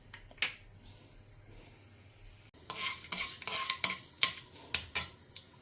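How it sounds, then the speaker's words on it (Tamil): Mustard and fenugreek seeds crackle and pop in hot sesame oil, starting with a lone pop and then building into a run of loud, close, irregular spluttering bursts. "கடுகு பொரிய ஆரம்பிக்கிறது இப்போ தான்."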